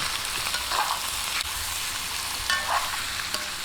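Raw chicken pieces dropped into a hot pan for paksiw na manok set off a loud, steady sizzle with rising bursts of spitting and stirring, no voices over it.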